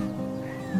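A cartoon bird squawks in a short harsh cry, loud and close, with no talk over it.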